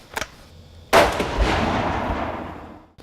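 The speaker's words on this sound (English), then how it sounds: "So we'll fire another shot now and see where it goes." A single loud rifle shot cracks at an outdoor shooting range while sighting in a rifle, followed by a long rolling echo that fades over about two seconds, with a faint click just before it.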